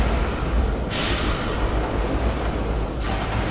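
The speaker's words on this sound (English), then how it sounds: "The pistons are pretty loud." Loud, steady mechanical roar of pistons in the video game Amnesia 2, a broad rushing texture with hissy bursts, like heavy machinery churning continuously, with no voices.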